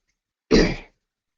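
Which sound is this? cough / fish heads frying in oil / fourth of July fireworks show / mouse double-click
cough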